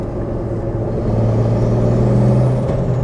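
Single-turbo N54 engine in an E46 M3 pulling in fourth gear, a loud steady low drone with a rising whine building over it, heard from inside the car.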